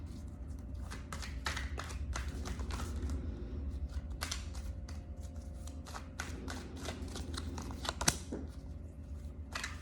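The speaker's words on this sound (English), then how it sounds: "Let's do one more ruffle and shuffle here." Tarot cards riffle and shuffle continuously for several seconds, a dense stream of soft flutters and papery snaps close by, with one sharper tap near the end.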